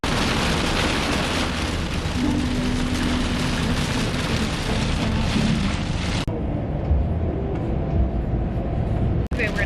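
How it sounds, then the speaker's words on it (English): Rain pouring down during a road trip car ride, a dense steady hiss that drops abruptly partway through to a quieter rumble, with faint voices in the background. "It's like on and off raining."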